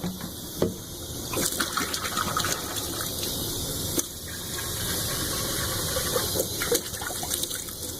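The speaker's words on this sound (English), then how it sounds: "you need to empty out the cup again" Water emptied out of a cup and poured away, heard as a continuous close gushing and splashing with a steady hiss, some louder surges along the way, and no talking.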